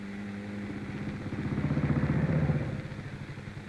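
A motorcycle engine kicked into life with the kickstarter, twist grip slightly open, catching and rising into a loud, close, rapid pulsing idle that swells then settles, with no voices.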